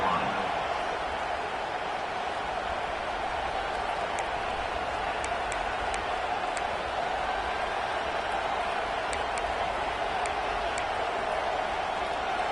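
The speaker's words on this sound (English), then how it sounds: "This crowd still bringing the intensity to open the second half." A football stadium crowd holds a steady, dense roar through the whole stretch at the start of the second half, a continuous wash of many voices with no breaks.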